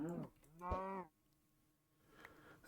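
A cow in the Minecraft modpack Stoneblock 4 gives two quick low moos, loud and close, followed by near silence and a faint game noise at the end.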